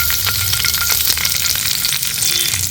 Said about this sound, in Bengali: বড় বড় কেটে রাখা পেঁয়াজটা দিয়ে দিচ্ছি